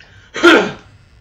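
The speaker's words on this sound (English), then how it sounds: "I had to clear my throat." A single close, loud throat clearing lasts under half a second, a rough gravelly burst that rises quickly and fades, with near silence before and after.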